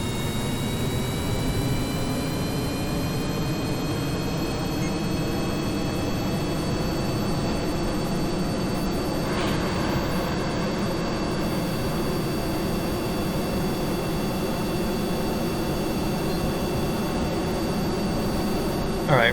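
Jet-engine roar of a drone aircraft climbing out after takeoff in Kerbal Space Program, a loud continuous whine-and-rumble with steady high tones, droning unbroken throughout; no clear talking.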